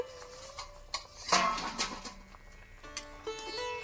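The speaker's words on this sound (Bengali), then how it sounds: "এবার আমি ঢাকনাটা খুলে দেখে নেব কীরকম হয়েছে" A metal lid comes off a cooking pot holding raw jackfruit, giving a sharp clank and a few ringing metallic knocks and scrapes, close and fairly clear against a quiet kitchen background.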